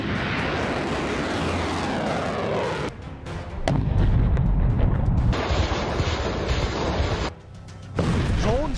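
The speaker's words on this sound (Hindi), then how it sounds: "ड्रोन से बरसते बम" Dense rumbling blasts and roaring war noise fill the scene as drones drop bombs in the Russia–Ukraine war. Heavy, continuous booms with brief dips are followed by renewed loud bursts, and there is no talk.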